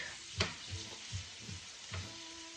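Browned rice tipped into a hot pan for risotto, a steady hiss under a few soft thumps and stirring scrapes spaced through the moment, close and moderately loud.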